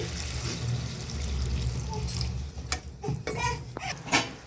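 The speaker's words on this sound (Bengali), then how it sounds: "এবারে আমি এর মধ্যে একটু জল দেবো।" Water is poured into a pan of rui fish and potato curry, making a continuous splashing pour that ends in a few clinks and knocks near the end. Heard close, with no one talking.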